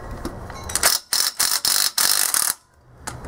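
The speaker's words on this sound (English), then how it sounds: "make sure that this has enough power to loosen these lug nuts" Power tool loosening lug nuts on a 2009 Malibu wheel during a brake and rotor job, giving several short loud ratcheting bursts in quick succession, each lasting a fraction of a second, with brief pauses between them.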